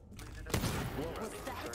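A single gunshot bursts out in Dishonored 2, a loud sharp crack followed by a rumbling, echoing tail with background game ambience.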